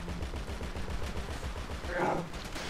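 Rapid gunshots in a GTA video game match, a quick steady string of close shots that keeps going for most of the stretch before a brief swell of noise near the end.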